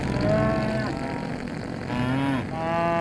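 Cows in the Minecraft video game moo in long, low, drawn-out calls, one after another over a steady background, clear and close with no talk.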